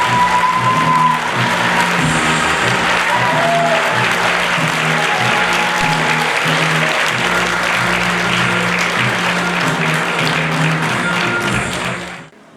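Sustained applause from a seated audience at a university award ceremony, steady dense clapping for over twelve seconds with faint background tones, fading out at the end.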